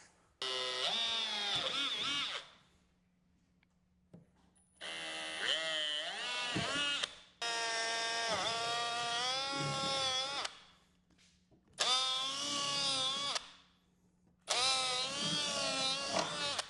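A power drill whirs in five separate bursts drilling holes in a 2025 Harley-Davidson Street Glide Ultra, its pitch rising and dipping under load, with quiet gaps between runs.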